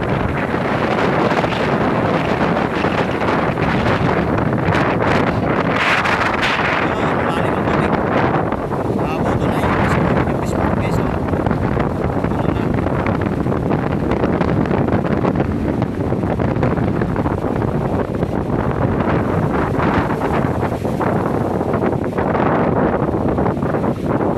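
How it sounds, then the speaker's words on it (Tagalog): Strong wind roars across the microphone with constant buffeting during a flood with rain, while sea waves rumble and crash underneath throughout. "malakas yung alon at saka hangin"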